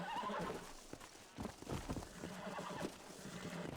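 A horse whinnies and snorts amid hoof clip-clop while being tamed in the video game Red Dead Redemption, a steady busy mix with no speech.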